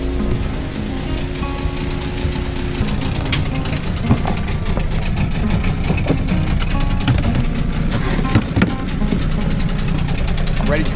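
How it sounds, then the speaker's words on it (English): Boat engine idling at low speed while warming up, a steady low rumble with knocking texture throughout, voices talking over it. "We cannot go too fast because we are just warming up the engine for another hour or so."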